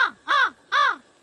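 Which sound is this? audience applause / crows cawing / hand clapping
crows cawing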